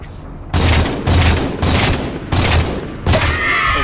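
Halo 4 sniper rifle fire in a heavy exchange: four loud, sharp broadband blasts at roughly even intervals, each ringing out briefly before the next, with no voices over them.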